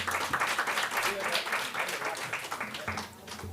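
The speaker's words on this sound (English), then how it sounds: "Please applaud to our 3 presenters." Audience applause for three presenters at a university incubator roundtable, steady clapping from a room of people filling the whole stretch, with a voice speaking over it.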